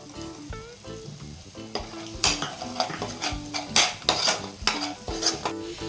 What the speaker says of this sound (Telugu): అది మిక్సీ పట్టగా వచ్చిన మసాలా పౌడర్ దీంట్లో కలుపుతున్నాను